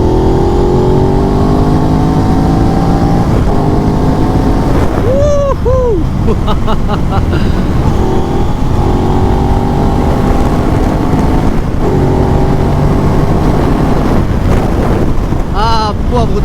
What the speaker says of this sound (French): Ah, je kiffe cette moto.